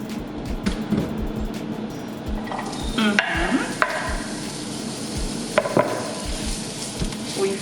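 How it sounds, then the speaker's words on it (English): Onions frying in sunflower oil, with a steady, close sizzle and repeated clinks and scrapes of stirring throughout. "We fry the onions till they turn a bit of caramel color"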